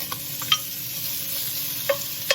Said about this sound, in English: we're going to now turn our temperature to medium-high heat, and we're going to add in our bacon